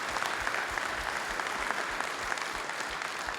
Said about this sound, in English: let's give Brooks and Amanda and Sean another round of applause